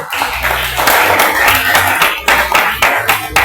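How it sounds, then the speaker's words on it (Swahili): A church congregation at a Holy Communion service clapping together in praise, steady rhythmic handclaps from many people with loud accented claps recurring, plus a low hum of organ or voices underneath. "Ndio ni makofi ya Yesu kweli"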